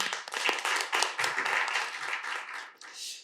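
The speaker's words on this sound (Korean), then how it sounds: "큰 박수 부탁드리겠습니다" Audience clapping at a Korean policy forum on AI competition, a steady burst of applause lasting about three seconds that tapers off at the end.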